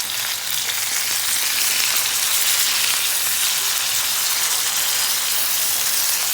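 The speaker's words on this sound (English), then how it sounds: "You hear that sizzle?" Chicken sizzles in a pan coated with a little vegetable oil, a steady, crackling hiss of frying that holds at an even level without any talk.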